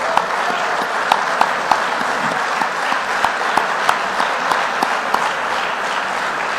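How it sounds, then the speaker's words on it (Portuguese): An audience gives a round of applause in tribute to Jorge at a radio broadcast, dense steady clapping with sharper individual claps popping out, sustained loudly throughout. "Uma salva de palmas para ele."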